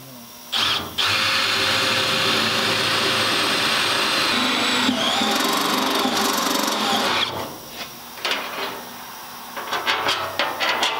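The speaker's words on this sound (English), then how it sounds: "I'll drill that hole first." A power drill bores a hole in the firewall of a 1932 car while mounting brake and clutch master cylinders, a loud, steady high whine lasting several seconds, then winding down into scattered clunks and handling noises.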